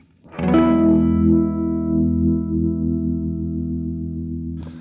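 Sustained, swirling guitar chord through a Cornerstone Aquarium univibe pedal as it switches from the slow to the fast setting, the throbbing modulation wavering like a spinning speaker, loud and alone before a brief pick noise at the end.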